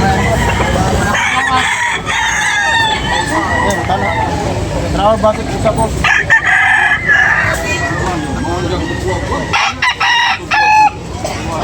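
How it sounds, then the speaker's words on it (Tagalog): A rooster crows loudly several times amid a noisy crowd at a rooster sale, with people talking throughout and other fowl clucking nearby. "Guwapong manok."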